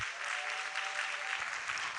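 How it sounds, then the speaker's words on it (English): A crowd at a Ghana universities debate championship applauds steadily and evenly for two seconds, a dense wash of clapping at moderate loudness with no voices heard. "Please give them a resounding round of applause."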